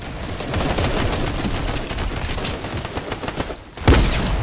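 Rapid video game gunfire, a sustained loud burst of shots from a distance, ending in a sharper single crack near the end, with no talk over it.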